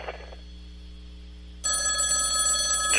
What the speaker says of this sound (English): Phone's gonna get annoying.